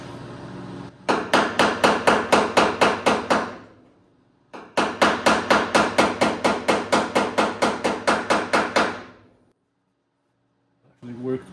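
Loud metallic hammer blows ring out close up on the sheet-metal body of a 1966 Triumph GT6, in two fast, even bursts of about a dozen strikes each, separated by a short pause.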